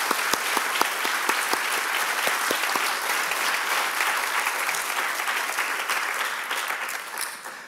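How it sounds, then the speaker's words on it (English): Warm applause from a lecture audience, dense steady clapping that holds for several seconds before fading out at the end. "I would like to ask a warm round of applause for Claire."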